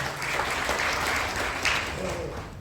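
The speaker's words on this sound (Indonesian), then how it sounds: "Tepuk tangan untuk kita semua." An audience claps together in a hall, a dense burst of applause lasting a couple of seconds with a voice speaking faintly through it before it fades.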